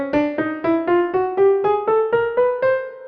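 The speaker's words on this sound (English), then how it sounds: "on piano, a 12-tone scale would sound like this" Piano notes climbing one semitone at a time through a twelve-tone chromatic scale from C, eleven or twelve evenly spaced, separately struck notes, clear and close with no voices.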